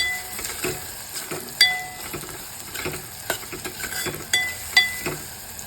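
Chopped onion sautéing with asafoetida in a pan: a soft steady sizzle runs throughout, punctuated by sharp metallic clinks and scrapes of a spoon stirring against the pan, close and fairly quiet.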